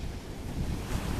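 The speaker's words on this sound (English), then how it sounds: "there's also the Atlantic Ocean behind her" Atlantic Ocean waves at Rehoboth Beach, Delaware, a brief dense roar of surf with heavy wind buffeting the microphone, loud and continuous with no voices.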